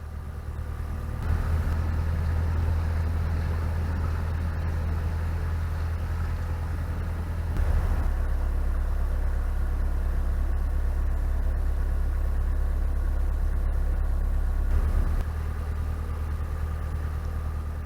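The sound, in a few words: narrowboat engine running on canal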